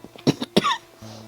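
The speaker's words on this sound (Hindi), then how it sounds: "थोड़ी खांसी है, इसके लिए सॉरी।" Two quick, close coughs in succession, followed by a faint low hum.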